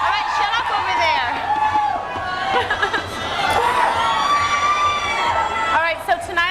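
A crowd of about 1,500 people screams and cheers at a pajama party concert at Webster Hall, 1995, with loud continuous shrieks and whoops that swell and fade, close and dense, mixed with some talking.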